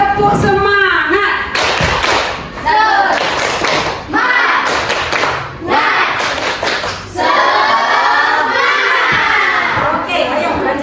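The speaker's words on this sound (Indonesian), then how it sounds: "Oke, kita tepuk semangat dulu." A class group performs a rhythmic spirit clap, tepuk semangat, with bursts of clapping and chanted voices in patterned phrases, loud and close, pausing briefly between sections and ending in a longer stretch of sung chant.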